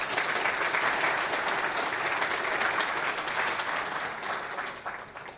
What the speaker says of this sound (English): Clap of hands for yourselves.